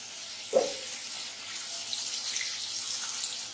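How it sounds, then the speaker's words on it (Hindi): Water pours from a tap into a pot of cooking potatoes for a meat and eggplant curry, a brief splash at first followed by a steady, moderately close hiss of running water. "अब इसमें थोड़ा सा पानी शामिल कर दें।"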